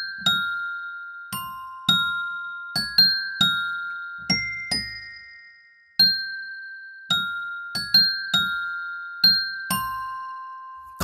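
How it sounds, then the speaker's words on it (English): Paggiano bells from the UVI Key Suite Acoustic virtual instrument chime in a slow melodic line, about fifteen clear metallic strikes each ringing and decaying, heard alone without talk. "Paggiano bells."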